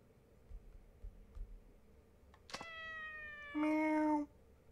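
A cat in the video game Yakuza 4 Remastered lets out a single clear, drawn-out meow that rises and then falls in pitch, loud against a low hum, preceded by a few faint taps.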